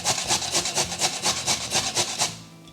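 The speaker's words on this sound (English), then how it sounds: "Now let's keep grating." Carrots grated by hand for gajar ka halwa, a close rhythmic rasping of about a dozen quick even strokes that stops near the end.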